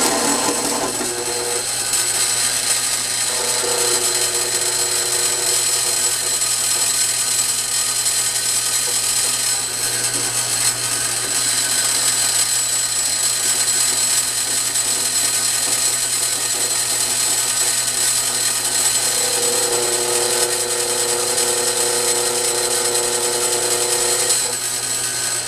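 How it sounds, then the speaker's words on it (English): A Bridgeport milling machine drills a hole into a steel pin, a steady high-pitched whine with a constant motor hum running throughout, slight shifts in tone as the bit cuts, no talking. "I'm just going to drill and tap it."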